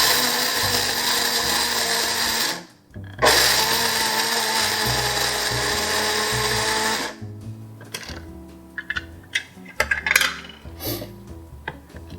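A blender with steel blades grinds almonds into almond meal, a loud whirring roar for several seconds with a short pause, followed by clattering and tapping as the grinding stops.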